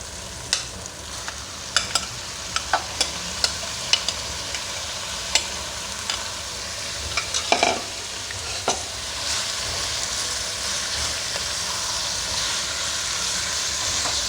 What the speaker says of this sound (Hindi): और इसको अच्छे तरीके से इसमें मैं भून लूँगी।